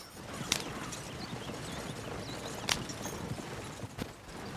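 Horse hooves clip-clop at a steady walking pace in the video game Red Dead Redemption 2, fairly quiet, with a few sharper clacks mixed into the rhythm.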